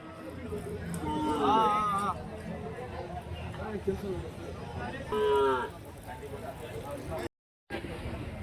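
Cattle at an outdoor cow market in Orappam, Krishnagiri, with two drawn-out moos rising above a busy hubbub of crowd chatter, while someone talks close by throughout.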